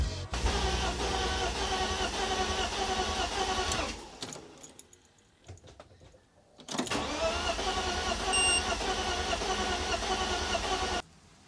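A BMW E46 fitted with big Bosch injectors cranks repeatedly while flooded, its starter whirring loudly in two long bursts separated by a quieter pause, never catching cleanly.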